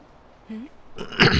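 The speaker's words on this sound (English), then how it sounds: "Just had to clear my throat." A single short, rough throat clearing comes from a Final Fantasy X HD gameplay session, close and moderately loud after a brief low vocal sound.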